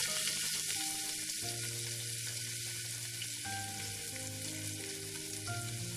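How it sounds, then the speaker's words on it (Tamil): Onions frying in a pan for mutton curry sizzle in a soft, even hiss that runs the whole time beneath background music. "இப்போ வெங்காயம் நல்லா வதங்கட்டும்."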